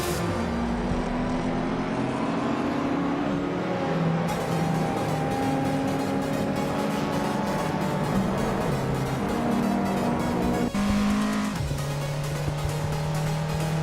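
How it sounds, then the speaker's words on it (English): A classic Porsche 911 ST race car roars continuously in a racing video game, its engine note rising and shifting through gears, loud and close with no talk over it. "Ablaze is driving a classic Porsche 911 ST"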